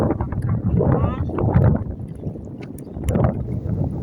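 Gusty wind buffets the microphone outdoors in late-afternoon sun, a loud rumbling roar that swells and eases throughout while people talk over it.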